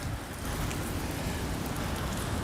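Steady rain pours down at the Blue Water Bridge in Michigan, a dense, even hiss of drops hitting surfaces that holds at the same level throughout, with no voices.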